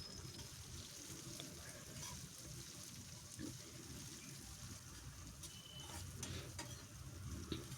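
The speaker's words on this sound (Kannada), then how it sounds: "ಈರುಳ್ಳಿನ ಹಾಕ್ಕೊಂಡು ಚೆನ್ನಾಗಿ ಫ್ರೈ ಮಾಡ್ಕೊಳ್ಬೇಕು." Onions frying in a pan for palak dal give off a soft, steady sizzle with faint stirring scrapes, fairly quiet and continuous, with no talking.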